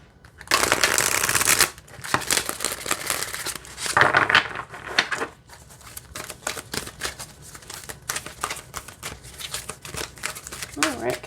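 Tarot oracle cards are shuffled in the hands in crisp riffling bursts, one long flurry at the start and another a few seconds later, followed by softer card handling and light rustling, close to the microphone.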